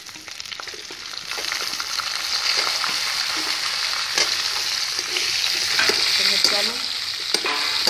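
Stuffed green chillies with hing sizzle and fry in a pan on a low flame while being stirred, a steady loud sizzle broken by scraping stir strokes throughout, with no talk.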